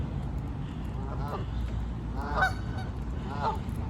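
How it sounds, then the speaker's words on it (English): Canada geese honking in a parking lot, three separate nasal honks spaced about a second apart at moderate distance over low background rumble. "We have lots and lots of Canada geese around in our area."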